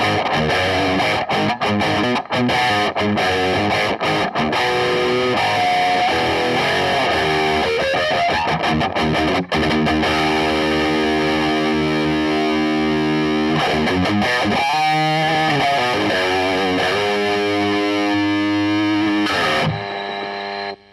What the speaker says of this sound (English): it's almost got a little bit of a nasal sort of sound.